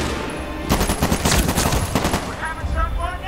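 Rapid automatic gunfire from the Medal of Honor Warfighter video game, loud dense bursts rattling continuously amid battle noise, with a brief quieter lead-in before the shooting starts.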